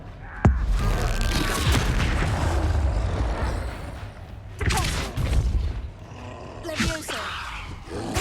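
An explosion spell cast in the Hogwarts Legacy video game sets off a sharp, heavy boom followed by roaring blasts and thumps, with more booming bursts later. Character voices sound between the impacts.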